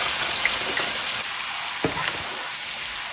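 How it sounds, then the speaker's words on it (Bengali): Chopped onions hit hot oil in a pan for a fish curry, giving a loud, steady sizzle that eases slightly after a moment, with a few faint clinks of a utensil. "এ পাশের চুলায় আমি মাছটা রান্না করব দিয়ে দিচ্ছি বেশ কিছু পেঁয়াজ কুচি"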